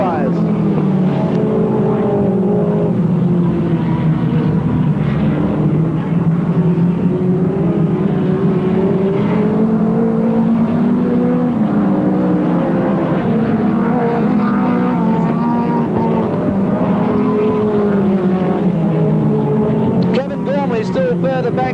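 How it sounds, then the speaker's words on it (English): Volkswagen-powered speedcars racing in a pack at a 1986 memorial meeting, engines droning and rising and falling continuously, loud and steady throughout beneath a commentator talking. "Ian Saville attempting to keep that 5 car from Victoria well within sight of his number 7 Volkswagen powered car"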